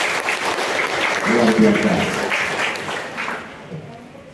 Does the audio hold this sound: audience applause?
yes